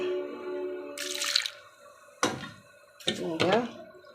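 Water is poured into buttermilk in a home kitchen, heard as a few short splashing bursts after a brief stretch of voice, close and moderately loud.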